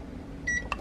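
Oven control panel beeping as the temperature is set for baking stuffed bell peppers: a sustained electronic tone followed by a short sharp beep, close and clear over quiet room hum.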